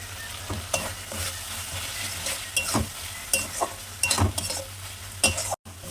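Bengali-style masala with a pinch of sweetener fries in oil in a pan, sizzling steadily while a utensil scrapes and stirs it in irregular, close strokes.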